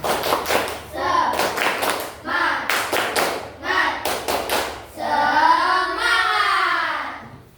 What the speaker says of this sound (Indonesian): Sebelum kita berdoa untuk pulang, kita tepuk semangat dulu.